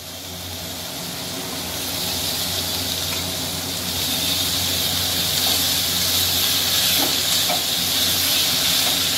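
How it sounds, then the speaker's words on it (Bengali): Banana flower being sautéed in spice paste for a Bengali mochar ghonto, a steady broad sizzling hiss from the pan that grows slightly louder, with no voices. "এর মধ্যে মোচা দিয়ে আবার কষাবো"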